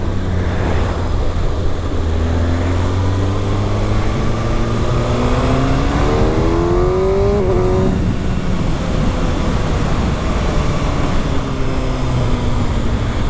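A motorcycle with a quick shifter and a decat exhaust revs hard and runs up through the gears, a loud, close engine note that climbs and drops repeatedly over steady rushing noise.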